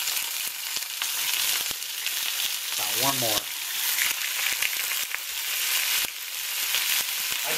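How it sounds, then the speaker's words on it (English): Beef tenderloin sizzling and frying in a cast iron pan, a steady loud crackle and hiss close up, with a short spoken remark partway through. "I'm going to throw on some tenderloin."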